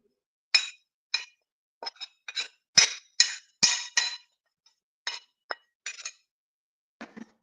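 Crayfish dropped into a cooking pot of red oil, giving about a dozen irregular, crisp clinks and taps close by, each short and separated by quiet gaps, with no voices.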